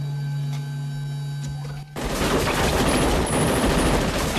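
A quiet hum cuts to a sudden, loud burst of rapid gunfire from a sci-fi action film that keeps crackling in a dense, sustained volley.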